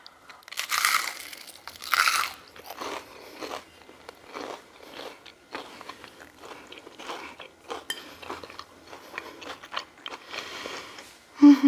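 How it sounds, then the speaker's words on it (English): Crunchy fried rotisserie chicken skin being bitten and chewed up close, a string of loud crisp crunches in uneven bursts with no talking. "I want you to hear this crunch. This is actually rotisserie chicken skin that fell off the chicken."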